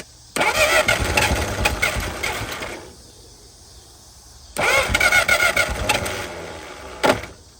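A 1950 DeSoto engine cranks and catches twice, running roughly for a couple of seconds each time before dying back, with a brief final burst near the end; loud and close, no talking.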